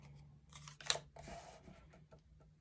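A few quick scissor snips trimming material during a craft project, close and fairly quiet, with one sharper cut standing out before the sound trails off.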